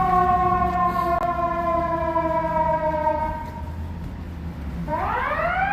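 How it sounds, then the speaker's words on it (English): A loud Chicago ambulance siren wails in long, steady sustained tones on a city street, then a new rising whoop begins near the end, with a rumbling background. "Ambulance pulling out of the Armitage."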